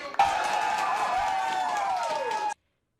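Crowd of people watching a football match on a big screen in Gwangju erupts in cheering at a goalkeeper's diving save against Uruguay, a sustained loud roar of voices and whoops lasting about two seconds before cutting off.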